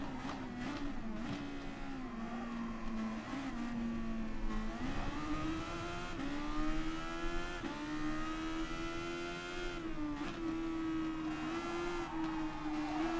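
Racing cars lap the Monza circuit in the Gran Turismo video game, with a continuous engine whine that rises and falls as the cars accelerate and shift. It runs steady and unbroken for the whole stretch, with no voices.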